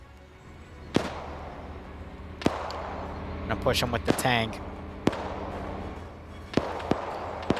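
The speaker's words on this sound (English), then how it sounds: "I'll wait for more gunfire to be heard" Sharp gunshots and explosions crack out in a World War II video game, scattered single reports with a burst of rapid fire in the middle, heard under ongoing voice chat.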